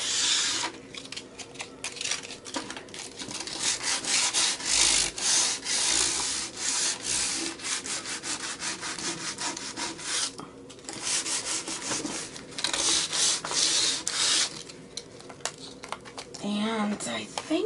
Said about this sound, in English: I think I'm going to get another piece of sandpaper here